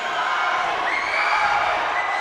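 Fans at a wrestling event cheering, a steady roar of crowd noise with rising whoops, loud and unbroken throughout.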